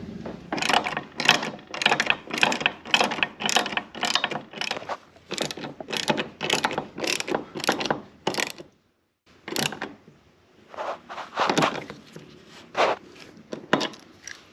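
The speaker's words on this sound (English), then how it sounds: "all we have to do with our hose reel is hook it up on our bolts and slide it down and go ahead and tighten them up" Mounting bolts of a retractable air hose reel being tightened against a wall with a ratchet, a fast run of loud, close clicking strokes, a brief pause, then further uneven bursts of ratcheting.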